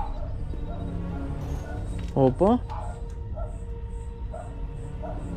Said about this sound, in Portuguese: que cachorrada aqui perto